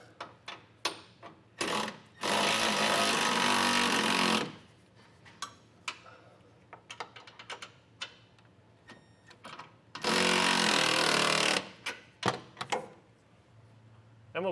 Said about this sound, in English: You want to use a 7/16 socket and a 3/8 wrench to be able to tighten these down